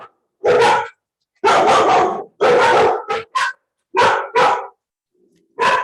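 A neighbor's dog barks outside in a run of loud, sharp bursts, some doubled, with short pauses between them and no talking.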